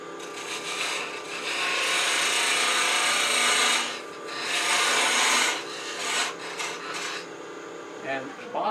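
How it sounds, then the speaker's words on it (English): A 1/8 inch parting tool cuts into wood spinning on a lathe, giving a continuous loud scraping rasp that dips briefly and then resumes. "I'm going to go ahead and make a little wider cut with an 1/8 inch parting tool."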